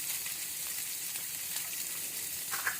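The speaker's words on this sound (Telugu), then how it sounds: "ఇప్పుడు ఆనియన్ వేద్దాము." Sliced onions fry in a pan of hot oil over tempered seeds, giving a steady, soft, even sizzle close by with no talk.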